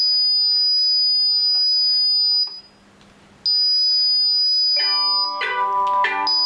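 Paradox alarm system siren sounding, a loud piercing steady electronic tone that cuts out for about a second, then resumes before shifting into layered warbling beeps near the end.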